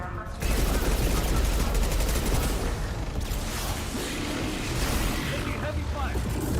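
Heavy, sustained gunfire in the sci-fi shooter Mass Effect 2 roars continuously as a dense, loud barrage with rumbling low impacts and sporadic sharper cracks, with voices talking over the combat.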